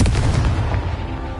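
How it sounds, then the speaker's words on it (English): A Confringo blasting spell goes off in Hogwarts Legacy on PS5, a loud booming explosion with a heavy low rumble that decays over about a second and a half, with no voices. "Confringo."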